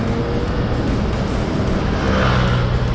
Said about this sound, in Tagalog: Salang dito medyo maraming sasakyan tsaka may mga truck